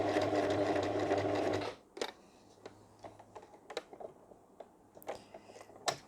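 A sewing machine stitches fabric in a steady fast whirring burst for almost two seconds, then falls silent apart from small clicks and handling noises of the cloth.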